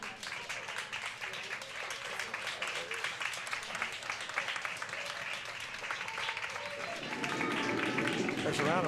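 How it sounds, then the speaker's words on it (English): Distant applause from a curling club crowd at a women's bonspiel, steady patter of clapping mixed with crowd murmur and talk, swelling louder near the end. "There's a round of applause."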